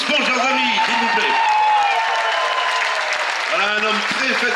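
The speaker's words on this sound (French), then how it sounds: "Applaudissements encore une fois pour ce grand champion, Thibaut Vauchel-Camus." Crowd at the Route du Rhum 2018 finish in Guadeloupe greets sailor Thibaut Vauchel-Camus with dense, continuous applause while an amplified announcer's voice talks over it.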